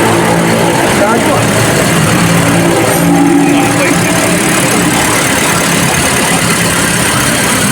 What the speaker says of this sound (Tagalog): paanda rin na natin ang Toyota Vios. Ayun, umandar pa.